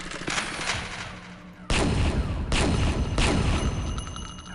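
Rifle fire in the original unpatched version 200 of the Unreal video game: three loud, close, booming shots roughly a second apart with ringing tails, over a dense background of game noise.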